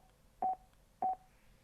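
Two short electronic beep tones, each pulsing briefly, sound from a Cardo Freecom motorcycle intercom about half a second apart, clean and fairly quiet against faint background hiss.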